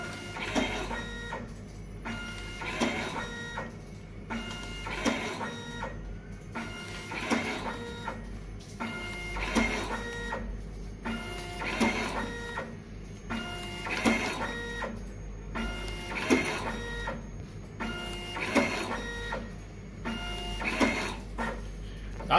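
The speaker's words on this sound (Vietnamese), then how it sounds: "Bây giờ mình sẽ demo thử cái máy in Ring 4012 kết hợp với giao cắt thì nó sẽ hoạt động như thế nào" A Ring 4012PLM+ industrial barcode label printer with a cutter prints and cuts labels in a regular mechanical cycle, a whirring feed followed by a sharp clack, repeating about every two and a half seconds, close and clear with no talk.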